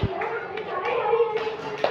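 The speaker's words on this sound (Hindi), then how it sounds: "तालियां बजाओ भाई इस परी के लिए" Children clap for a girl during a classroom counting game, a light irregular patter of small hands with children's voices mixed in nearby.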